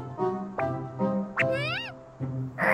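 Cartoon kitten meowing several times: short nasal meows followed by a higher rising-and-falling mew and a final cry, close and clear with no talk.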